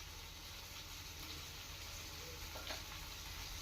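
Turmeric, coriander and cumin fry in a pan for Bengali vegetable dal, a very faint, soft sizzle with a light scrape of stirring partway through.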